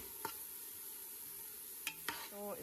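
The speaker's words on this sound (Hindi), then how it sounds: "तेज़ आंच पर थोड़ी देर के लिए भूनेंगे।" Chicken and vegetables with crushed carrot are stir-fried in a pan over high heat, giving a faint steady sizzle broken by a few sharp spatula scrapes and clinks near the end.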